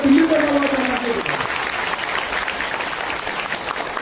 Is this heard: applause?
yes